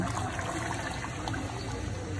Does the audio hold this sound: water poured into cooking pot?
yes